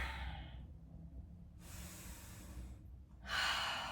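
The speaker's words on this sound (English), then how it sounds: "Take a couple breaths in" A person breathing during a chest stretch in a workout: soft, slow inhales and exhales, with two louder airy breaths partway through and at the end, close and unhurried.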